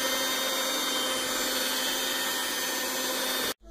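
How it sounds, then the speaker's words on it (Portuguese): An electric mixer kneads a heavy whole-wheat panettone dough with a steady, close motor whine and drone that runs evenly for several seconds before cutting off abruptly. "Como eu não sou tão forte com os braços, eu vou com a batedeira mesmo."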